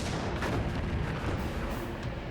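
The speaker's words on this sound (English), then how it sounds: "Laffey's 5-inch guns quickly open fire" Warship 5-inch naval guns firing at an approaching dive bomber in wartime: a continuous heavy rumble of booming gunfire, loud and dense throughout, with no pauses between blasts.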